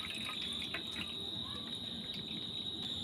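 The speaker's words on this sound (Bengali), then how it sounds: "জলটাকে ছেঁকে নেবো।" Rinsing water drains out of fresh chhena (Indian cottage cheese) being strained, a continuous close trickle and drip with a thin steady whine in the background.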